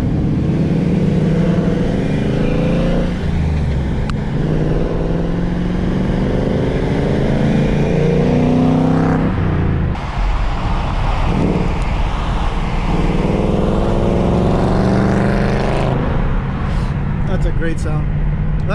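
A stock Mercedes C63 AMG V8 engine revs and roars up through the gears, loud and close, dropping and climbing again, with people talking over it.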